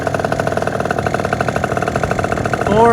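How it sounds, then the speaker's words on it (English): A Vento Triton R4 motorcycle engine idles at low revs close by, a steady loud pulsing chug with even rhythm, rising slightly at the very end. "460 RPM at idle."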